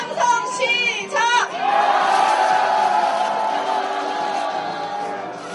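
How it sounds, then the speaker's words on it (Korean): A crowd at an outdoor protest rally shouts a collective rally cry, opening with two sharp, rising whistle-like blasts, then swelling into a long, loud roar of many voices that slowly fades. "힘찬 함성과 함께 상징의식을 시작하겠습니다. 함성 시작!"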